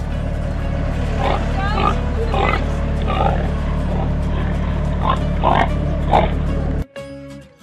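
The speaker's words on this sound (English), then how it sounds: "Oh, look at the pigs." Pigs at a pumpkin patch farm give several short grunts and oinks in an irregular rhythm over a steady low hum, fairly close, with people talking nearby.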